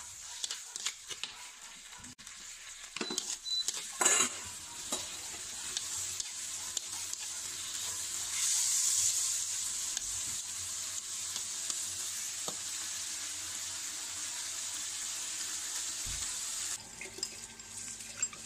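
Tomatoes tipped into a hot pan with cooking wine, salt and sugar and stir-fried, giving a continuous sizzle with occasional spatula scrapes and clinks, no talking.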